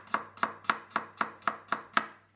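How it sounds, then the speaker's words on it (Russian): Garlic cloves are chopped into large pieces with a knife on a board while making oven-dried tomatoes, eight even, crisp chops in a steady rhythm, close and clear with no talking. "Я сейчас режу несколько зубчиков чеснока такими довольно крупными"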